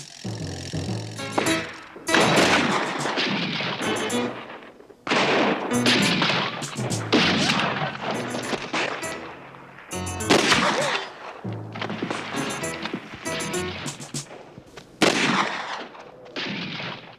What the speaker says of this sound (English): Oh, the shooting's getting better.